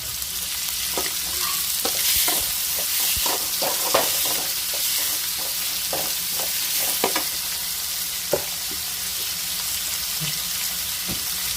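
Chopped tomatoes stirred into hot oil with curry leaves in a pan for bitter gourd stir-fry, giving a steady close sizzle broken by frequent scraping spoon strokes throughout, with no talking.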